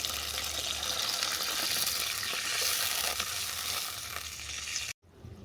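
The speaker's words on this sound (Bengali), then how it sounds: "আমি জল দিয়ে দিচ্ছি" Water pours into a hot frying pan of cooking bottle gourd stems, a loud, continuous rushing hiss and sizzle that eases off before a sudden cut near the end.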